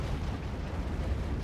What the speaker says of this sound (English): So many missiles.